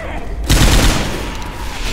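Gunfire from the zombie shooter game Left 4 Dead 2 bursts in loudly and close, a dense volley of shots erupting partway through and then trailing into a rough, sustained roar of firing.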